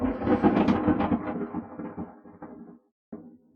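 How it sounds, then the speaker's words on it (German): Loud, rolling thunder from a thunderstorm rumbles for a couple of seconds and fades, followed by a brief pause and a short second crack. "Gewitter."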